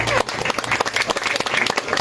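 An audience claps at a village magic show, a short burst of brisk, fairly close applause with individual hand claps standing out and voices mixed underneath.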